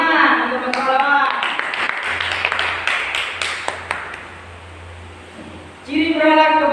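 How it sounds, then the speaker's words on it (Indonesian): Classroom applause of scattered hands clapping breaks out between stretches of someone speaking, with the claps fairly close and moderately loud. "Tepuk tangan untuk Mas Pahlawan"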